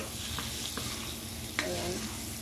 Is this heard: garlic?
yes